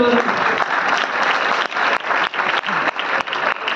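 Loud crowd applause at a Vestige business meeting, dense continuous clapping with a few brief dips, close and filling the room.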